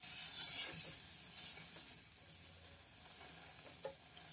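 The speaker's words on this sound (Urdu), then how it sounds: "ٹماٹر کا پیسٹ ڈالنے کے بعد ہم اس کو اچھے سے بھون لیں گے" Homemade tomato paste with spices for Lahori murgh cholay being fried in a pan, a soft steady sizzle with faint stirring scrapes, close and quiet, with no talking.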